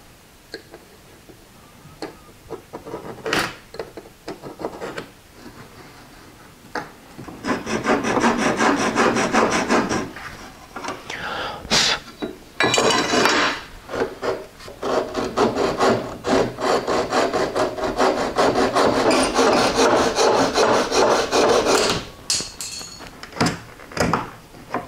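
An aluminum window screen frame piece being cut by hand, giving a steady, close rasping sawing stroke that runs in two long sustained bursts, with scattered knocks and scrapes before and between them.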